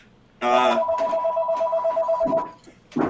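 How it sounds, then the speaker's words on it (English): A telephone rings indoors with a single loud electronic ringtone burst lasting about two seconds, followed by brief faint rustling and another short sound onset. "somebody get the phone."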